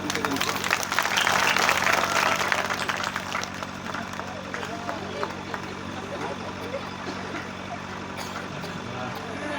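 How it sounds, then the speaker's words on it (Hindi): Crowd applause at an outdoor kirtan gathering, a dense wash of clapping swelling early and then continuing more softly at mid distance beneath ambient chatter. "ताली वाली बजा दे भैया"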